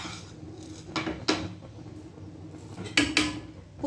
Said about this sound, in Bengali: এইটাকে আমি এবার একটু একটু করে এই চালের মধ্যে দিয়ে জলের মধ্যে দিয়ে দেবো